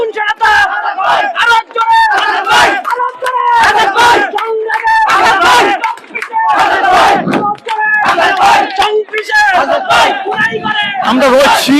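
A large crowd of supporters chants slogans for Hasnat Abdullah at a National Citizen Party rally outside his office in Debidwar upazila. Loud, close, rhythmic call-and-response shouting rolls on without pause.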